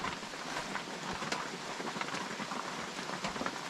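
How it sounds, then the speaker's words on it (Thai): Steady rain falls through the night on a fruit orchard deep in a forest, a dense, even hiss with scattered drop taps, continuous and moderately loud with no voices. "ฝนเริ่มตกแล้ว"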